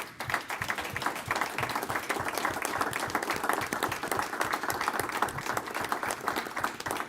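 Sustained applause in a Senate rules committee room honoring a retiring senator, the dean of the Senate, with dense steady clapping from a crowd lasting throughout.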